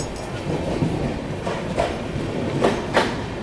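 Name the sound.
Seemanchal Express train running through Ara Junction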